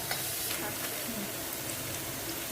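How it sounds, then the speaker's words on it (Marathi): Cumin seeds added to hot oil with reddened garlic, a close, steady crackling sizzle with a faint stir, continuous for a couple of seconds. "त्यानंतर आपलं जिरे टाकायचे"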